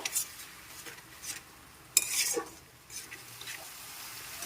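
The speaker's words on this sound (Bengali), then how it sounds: "এখন মশলাটাকে ভালো করে 2 মিনিট ধরে কষিয়ে নেব।" Spice paste with tomato purée and salt being stirred and fried in a pan for a raw jackfruit kofta curry, with utensil scrapes and clinks against the pan over a faint low sizzle, one sharper scrape in the middle.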